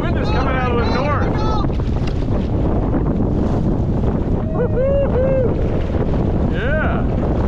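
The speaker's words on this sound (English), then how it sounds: "The wind is coming out of the north." Heavy north wind by a sea wall on open water, buffeting the microphone in a constant rumbling roar while someone speaks briefly and gull-like cries rise over it.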